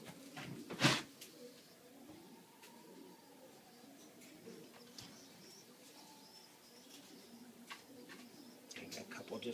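Pigeon breeders in a loft coo softly and steadily throughout, with occasional flutters and chirps nearby, while someone talks over the birds.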